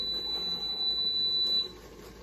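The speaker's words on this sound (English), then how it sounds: "So if you hear it beep, that means the timer just went off." A steady high-pitched electronic tone holds for about a second and a half, then cuts off, over a low background hum.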